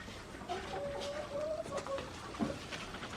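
Chickens cluck softly and intermittently at a farmstead, with a few short bursts of fowl calls over quiet background noise.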